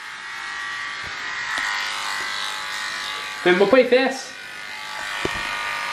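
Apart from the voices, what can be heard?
electric clippers shaving a man's head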